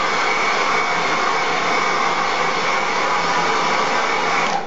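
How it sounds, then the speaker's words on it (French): A handheld hair dryer blows over freshly cleaned terrarium decorations, a loud continuous rushing whir held steady for several seconds before cutting off, with no voices. "je passe un coup de sèche-cheveux dessus rapidement"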